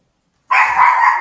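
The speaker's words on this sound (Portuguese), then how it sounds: "Desculpa, gente, é cachorro." A dog gives one sharp bark close by in an apartment building, a short loud burst after a moment of silence, with no talking.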